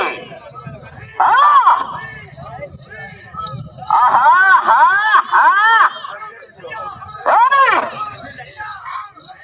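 A crowd at a bull race during the Peddamma temple festival in C.S. Puram shouts and cheers in three loud bursts, with a babble of voices and whistles in between.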